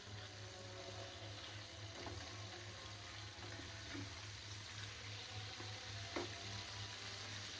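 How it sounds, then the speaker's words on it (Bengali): Pieces of aair fish fry in a pan for a coconut-milk curry, giving a quiet, continuous sizzle with soft crackles and a few faint kitchen clinks, and no talking. "এখন আমি মাছগুলো উল্টায় দেব। হালকা ভাজা দিলাম"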